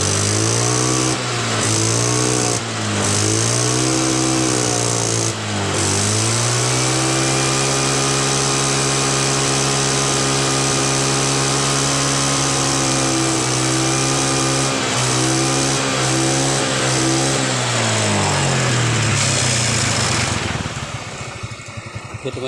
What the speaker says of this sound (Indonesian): motor ini hidup ya teman-teman. Motor ini udah normal kembali